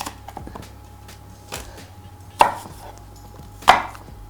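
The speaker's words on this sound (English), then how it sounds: "just take the core out like that and then just cut it" Knife cuts through a cored apple, making it into chunks on a cutting board: a few sparse, crisp strikes, two of them clearly louder, over a low steady hum.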